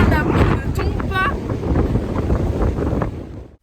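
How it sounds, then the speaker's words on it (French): Strong wind in Scotland buffets the microphone with heavy, rumbling gusts that stay loud throughout before cutting off abruptly near the end. "vu que le vent est plutôt intense."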